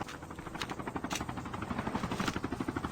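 A helicopter in the Call of Duty Mobile battle royale mode makes a steady, fairly loud rotor chop with a fast pulsing rhythm that runs throughout. Sharper game effects briefly cut through the rotor sound.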